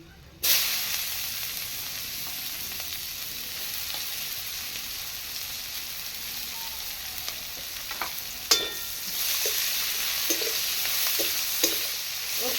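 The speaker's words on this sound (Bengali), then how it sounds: "এটা ভালো করে ভাজা হয়ে গেলে আমি দিয়ে দিচ্ছি পেঁয়াজ কুচি" Chopped onions sizzle steadily in a hot pan with bay leaf, fairly quiet, broken by a few clinks of stirring.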